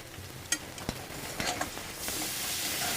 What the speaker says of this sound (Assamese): এনেকৈ লৰাই দিছোঁ অলপমান পকি যোৱালৈকে জিৰা, গোটা জিৰা